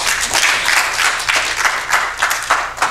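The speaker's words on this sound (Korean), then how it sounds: "이럴 때 박수 한번 치시는 거 아닌가요?" Audience applause after a speaker introduces a guest teacher at a Korean gathering: dense, steady clapping fills the whole stretch at fairly close range, with no clear voices on top.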